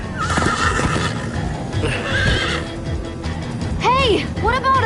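A horse in the video game Minecraft Story Mode whinnies twice near the end over hoofbeats, game music and a voice speaking, loud and close.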